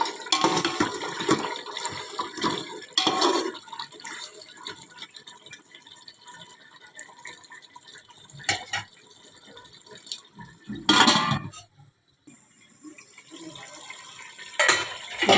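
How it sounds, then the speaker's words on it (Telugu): Water poured from a glass onto soaked basmati rice, nine glasses for one and a half kilos of rice, in several splashing bursts with short pauses between them, close and fairly loud, no talking. "కేజీన్నర రైస్కి 9 గ్లాసుల వాటర్ పోసుకుంటున్నామండి"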